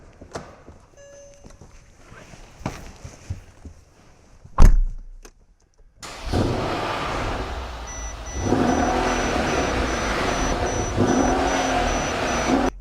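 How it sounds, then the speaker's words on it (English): A 2011 Mercedes-Benz S63 AMG with a tuned exhaust starts with a sharp thump, then a door shuts and the engine catches with a deep, loud rumble that settles into a steady idle, after quieter movement and a few clicks. "Got the exhaust, the tuned exhaust back here with the chrome apertures that you can see, and you're going to hear in just a moment."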